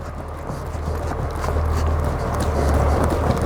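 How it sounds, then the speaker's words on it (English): Horse trotting in an arena, hooves beating in a steady rhythm under a dense, loud, continuous rumble that largely blurs the individual footfalls. "I'm going to ride this horse on trot, just a normal trot."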